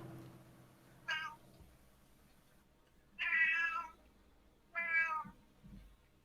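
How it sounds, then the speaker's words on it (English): A cat meows three times in a video game, each call short and thin. They sound distant over a low, steady background drone. "Against all odds, you hear a cat off in the far distance."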